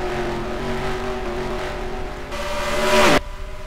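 Stock race cars roar back up to speed at a restart in a NASCAR-style racing video game, engine drones layered and climbing steadily in pitch, one car swelling loudly to a near pass before cutting off abruptly.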